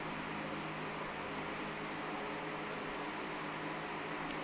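A room electric fan runs on a hot day as a faint, steady whooshing hiss with a low hum, constant throughout without any voices.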